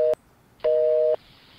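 A telephone busy tone after a hung-up call: two short steady electronic beeps separated by silence, clear and close with no other sound.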